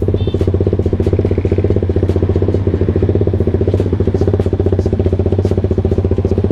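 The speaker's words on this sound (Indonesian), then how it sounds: "Ini berisik banget knalpotnya." A bored-up 280 Kawasaki Ninja SL motorcycle with a loud exhaust idles close and loud at night, a rapid, even, throbbing pulse with crackly clatter.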